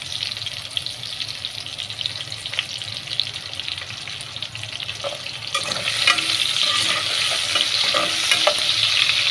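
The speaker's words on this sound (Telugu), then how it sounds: "ఇప్పుడైతే ఎండుమిరపకాయలు కూడా వేసేసుకున్నాము." Dried red chillies frying in hot oil for sambar, a steady close sizzle with stirring clinks, swelling louder and brighter partway through.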